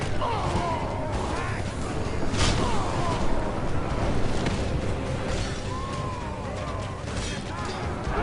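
Siege towers fire during a Portugal versus Scotland siege battle in Medieval II: Total War, a dense, steady roar of battle noise with repeated impacts and crashes layered throughout, loud and continuous with no clear pauses.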